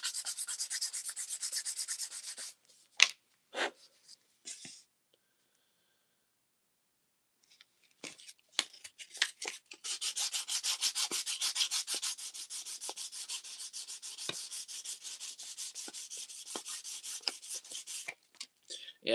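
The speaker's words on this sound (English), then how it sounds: "sand this sucker down as much as I can" Close hand sanding of a wallet, a few short rasping strokes, then a quiet gap, then a long sustained run of fast back-and-forth scraping.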